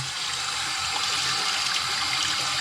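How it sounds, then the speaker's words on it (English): Warm water runs steadily from a sink tap over aquarium filter cartridges being rinsed, a close, continuous hiss and splash with no pauses. "But I go ahead and put some warm water, and I get everything out of them."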